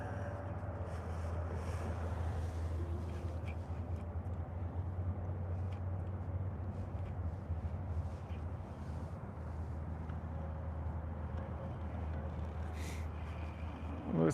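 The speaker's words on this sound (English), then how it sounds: "Gosh, it's windy." Wind buffets the microphone while fishing for striped bass from a boat, a steady low rumble with gusty swells throughout and a faint voice briefly near the end.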